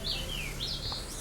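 A bird in Life Is Strange gives several high, thin chirps and sweeping tweets in close succession over a low background rumble, fairly clear and unaccompanied by speech.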